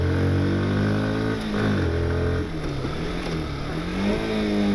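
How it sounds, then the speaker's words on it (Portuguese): A Bajaj Dominar 160 motorcycle accelerating hard through the gears, its engine note rising in pitch, dropping at each shift and climbing again, loud and close with steady wind noise. "então acelerando um pouquinho mais e testando aí a questão de aceleração"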